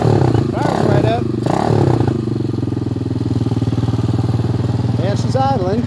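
A Honda Hawk 250 scrambler motorcycle idles close by with a steady, throbbing, slightly uneven putter and light clatter, while someone talks over it at the start and near the end.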